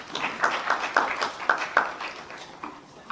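Audience applause at a panel discussion on atheism and Islam, a smallish crowd with distinct individual claps standing out in an uneven rhythm, moderately near and fading slightly toward the end.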